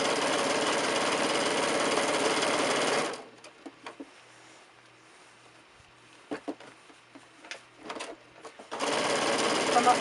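A sewing machine stitches fabric for a drawstring bag, running in a loud steady burst, pausing briefly for a few short bursts of back stitching, then running steadily again.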